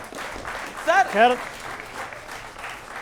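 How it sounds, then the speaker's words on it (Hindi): An audience at a televised Delhi election 2025 debate breaks into applause, a short burst of clapping under a voice speaking over it. "बच्चों जरा तालियां"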